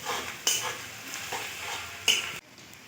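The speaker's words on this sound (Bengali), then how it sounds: "রসুন আর পেঁয়াজ ভালো করে ভেজে নেব, এর কাঁচা গন্ধটা যাওয়া পর্যন্ত, ততক্ষণ পর্যন্ত আমি ভেজে নেব।" Garlic and onion sizzling in a pan for a mutton curry, with a steady frying hiss and a few sharp clinks of a spatula stirring against the pan, close up.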